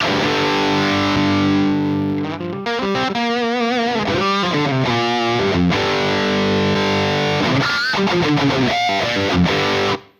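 Electric guitar through a Soldano SLO Mini amp, gain at 2, playing chords and melodic runs with a gritty, overdriven tone, loud and continuous, ending abruptly.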